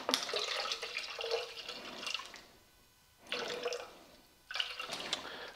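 Three bursts of water being poured into a shaker cup, about 20 ounces, splashing and filling with short quiet pauses between pours; no talking.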